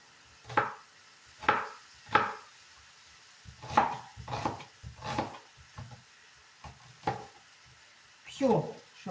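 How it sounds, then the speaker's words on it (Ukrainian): An onion is chopped with a knife on a wooden board while making mushroom chebureki. About ten sharp, close chops come at irregular intervals, with a few softer taps between them. "а я покришу цибульку"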